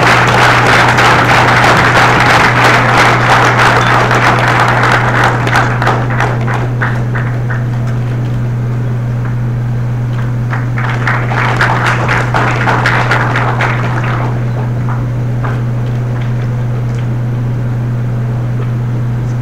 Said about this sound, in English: A big round of applause for Ajay.